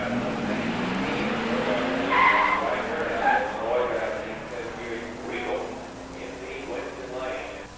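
At a drag strip, an 86 Mustang GT 302 five-speed and an 87 Buick Grand National race with rising engine drones and tire squeal, heard at moderate distance under steady public-address commentary.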